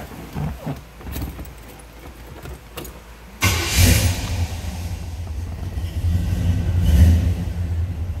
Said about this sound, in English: go ahead and fire this up, seeing here it run